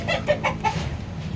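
Several short, close chicken clucks in quick succession over a low, steady background rumble.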